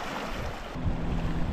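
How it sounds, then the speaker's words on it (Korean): Waves lapping the shore of Khövsgöl Lake in Mongolia, a steady wash of surf that swells partway through under gusty wind buffeting the microphone. "무슨 호수가 이렇게 파도도 치고 그러냐, 바다처럼."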